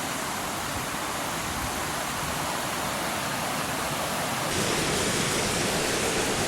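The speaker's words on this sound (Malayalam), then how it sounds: "ഇതാണ് വെള്ളച്ചാട്ടത്തിൻ്റെ കാഴ്ച ചെറിയ ഹൈറ്റിൽ നിന്നാണ് വെള്ളം വരുന്നത്" A small waterfall near Kodaikanal, water dropping from a low height in a steady, dense roar that fills the whole moment without a break, close and loud, getting slightly stronger toward the end.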